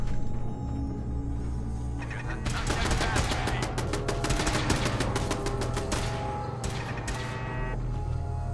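Turret gunfire in the video game Fallout 4, a rapid burst of loud automatic shots that runs for several seconds over a low game hum and then tapers off into a few scattered shots.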